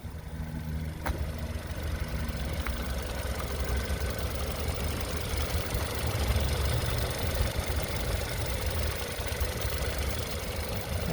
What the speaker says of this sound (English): Turbo engine sounding good